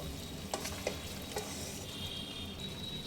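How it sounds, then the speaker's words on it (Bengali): Fish-head chhechra with spinach, cabbage, cauliflower and green chillies being stirred in a pan, a soft continuous sizzle broken by a few scraping clinks of the spatula, quiet and close, with no talking. "পালং শাক দিয়ে দেবেন দেব চারটে চেরা কাঁচা লঙ্কা আর স্বাদ মতো চিনি আরও একবার নেড়ে দেব"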